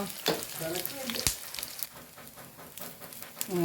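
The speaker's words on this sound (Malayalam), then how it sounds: "ആദ്യം എണ്ണ ഒഴിച്ചു കൊടുത്തിന്ന് ഇനി ഇതിലേക്ക് ആദ്യം മല്ലി മുളക് ഇട്ട് കൊടുക്കുക" Coriander and chillies fry in hot oil, giving a steady crackling sizzle with sharp pops and bursts. A voice is faintly audible near the start.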